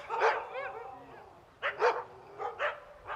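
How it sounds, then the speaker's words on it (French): Several sled dogs at a musher's kennel in the Haut-Jura bark in short bursts, a cluster of yips early on, then a pause and a few more sharp barks close by. "les chiens, il y en a quelques-uns qui aboient beaucoup quand j'arrive"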